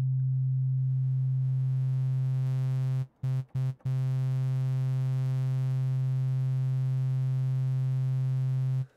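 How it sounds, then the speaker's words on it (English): A Helm software synthesizer plays a sine wave blended with a saw-wave second oscillator, giving a steady, bright, buzzy sustained tone that breaks off in three brief gaps near the middle before continuing to the end. "a bit of oscillator 2, which I've set to a saw wave"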